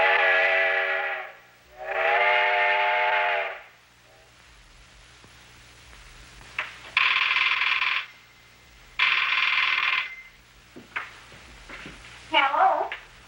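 A telephone bell rings twice in short, bright bursts after two long horn-like blasts, with voices speaking around them.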